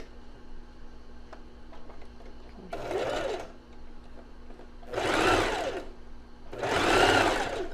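A domestic sewing machine runs in three short bursts as it stitches lace onto panties, buzzing steadily between quiet pauses, each burst louder than the last.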